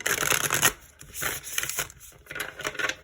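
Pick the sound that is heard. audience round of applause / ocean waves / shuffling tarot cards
shuffling tarot cards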